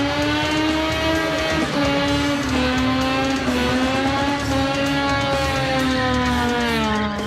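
Eardrum-shattering car engines at the Scrap Palace Morrinsville Burnout Comp scream loudly and continuously, their pitch rising and falling as drivers rev hard, with no talking over them.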